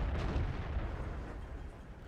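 In a tank battle video game, a single heavy cannon shot strikes a tank turret with a deep, close, booming impact that rumbles and fades over about two seconds.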